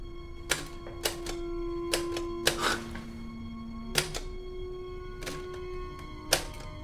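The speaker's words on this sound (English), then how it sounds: "You don't know how to use a typewriter, do you?" Sharp clacks of typewriter keys struck one at a time at a slow, uneven pace, about a dozen crisp strikes over several seconds with a steady low hum underneath and no talking.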